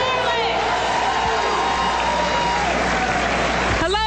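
A large convention crowd at the 2012 Democratic National Convention kick-off in Charlotte cheers and applauds continuously, a loud sustained roar of clapping and whoops.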